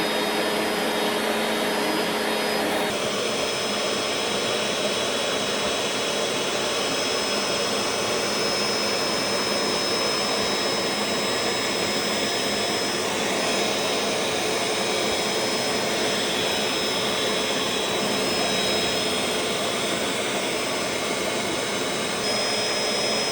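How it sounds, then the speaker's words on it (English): A Bissell vacuum cleaner runs with a steady, loud, continuous whine and roar while cleaning an old child's ride-on toy horse, with no talk. "First things first, I'm going to get my Bissell out and clean it."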